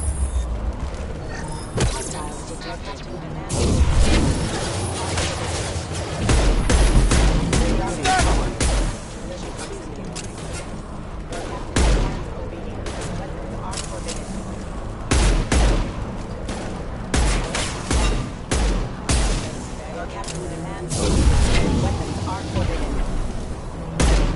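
Sci-fi gunfire in the Mass Effect Legendary Edition video game: repeated bursts of rifle shots and impacts across the whole stretch, loud and close, with short pauses and occasional voices over the shooting.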